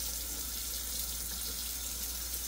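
Hot water runs from a tap into a sink, a steady close hiss of flowing water with a low hum underneath and no speech.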